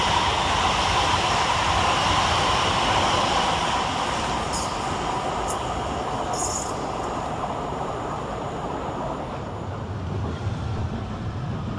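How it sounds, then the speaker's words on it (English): Greater Anglia units 72517 and 72522 depart Stratford station, a loud rolling rumble and motor drone close by that slowly fades, with a few brief high squeals partway through. "72517 and 72522 depart with the 2002 Greater Anglia service from Southend Victoria to"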